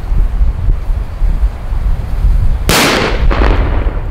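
Wind buffets the microphone outdoors, then a single sharp bang from a Dextrin Ultras Liberi firecracker cracks out nearby, followed by a short rattling echo.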